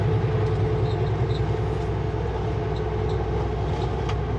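A Christmas train rumbles past in British Columbia, a steady low drone of rolling rail cars and engine noise holding at an even level throughout, with no voices.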